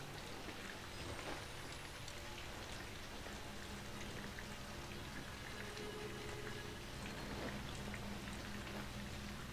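Steady rain falls outdoors in the horror video game Outlast, a constant soft hiss of drops at low volume with no talk, occasional faint tonal sounds in the background.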